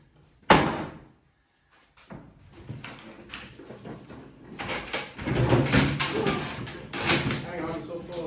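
Old doors crash loose and fall during a removal job, a sharp loud slam followed by scraping and clattering as they come down, with people talking throughout.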